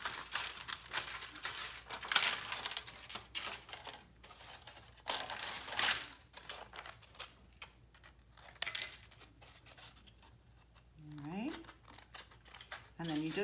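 Scissors snip through thin foil to cut small petals for a faux metal flower craft, making close crinkling, clicking cuts in short bursts with pauses between them.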